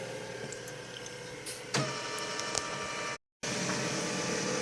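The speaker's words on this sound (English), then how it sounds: "And now the printer is using the flatbed to scan whatever is in there." An HP LaserJet Pro 200 color MFP M276nw scans a color copy on its flatbed, giving a steady mechanical whir with a few clicks and a brief pause before the motor hum resumes.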